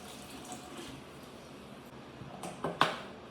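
Liquid splashes while an 8 gallon cider fermenter is filled, a steady low pouring wash building to a few sharper splashes near the end, close and fairly quiet with no talking.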